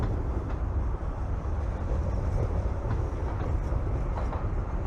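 A metro train pulls out of its depot and into a short tunnel, a continuous loud low rumble and rolling roar with no voices.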